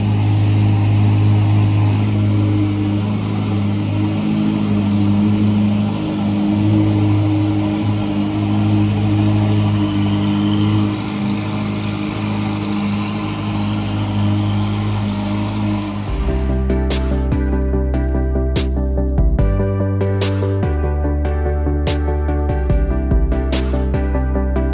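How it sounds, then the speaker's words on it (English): A Ferrari SF90 Stradale supercar pulls out on a Bangkok street, its engine rumbling steadily at first, then surging loud and close with sharp revving bursts and gear-change dips as it drives off. "I can hear the SF90 Stradale firing up"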